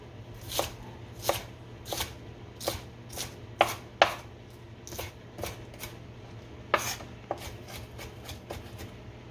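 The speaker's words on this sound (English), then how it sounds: "Just gonna slice them very thinly." A freshly sharpened knife slices ingredients thinly for fried rice on a cutting board, crisp separate cuts in an uneven rhythm, close and clear over a faint low hum.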